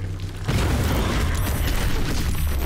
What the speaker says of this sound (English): is it just like exploding the whole thing?